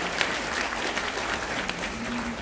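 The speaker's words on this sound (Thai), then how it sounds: "ขอเสียงปรบมือให้กับน้องกันเลยครับ" An audience at a Thai music event claps as a crowd, a dense, moderately loud patter of applause with a few faint voices mixed in.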